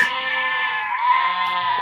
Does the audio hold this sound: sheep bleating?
yes